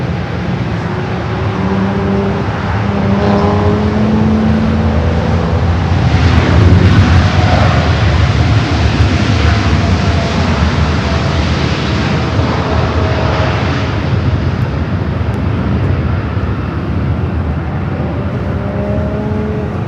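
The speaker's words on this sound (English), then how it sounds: "Up next for takeoff here on the north." Jet airliner taking off from the north runway at LAX: a loud, continuous engine roar that swells and peaks midway, then holds steady, with no voices.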